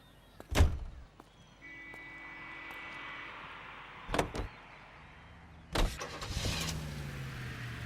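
Car doors thunk shut in the L.A. Noire video game, three separate slams spread across the stretch, with an engine starting and idling beneath them and a faint whine between the impacts.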